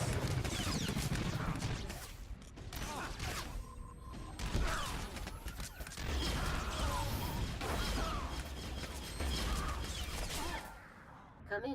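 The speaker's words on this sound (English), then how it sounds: "Open fire, men!" Blaster gunfire and clashing combat effects from the video game Star Wars: The Old Republic, a dense, continuous battle din with sharp bursts and crashes throughout.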